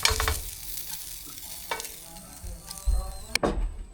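Peeled prawns fry in garlic in a pan, a close sizzle broken by stirring scrapes and clanks, with louder bursts of crackling toward the end.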